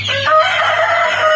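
Free-range village chickens kept in a netted enclosure, one close, loud rooster crow holding a long wavering note against soft clucking.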